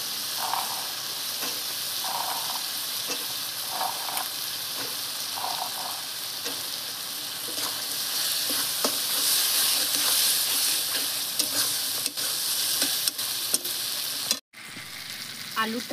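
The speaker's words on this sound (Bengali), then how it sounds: "ওর ভিতরেই দিয়ে দিচ্ছি ধুয়ে রাখা মটর" Washed peas tipped into masala frying in a pan for a prawn curry with potatoes, a loud continuous sizzle with stirring scrapes and clicks, ending in a brief drop and a fresh burst of hiss.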